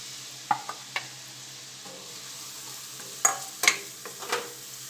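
About 150 grams of green garlic fries gently in hot butter, a soft steady sizzle broken by a few sharp clinks and scrapes of a spoon stirring the pan.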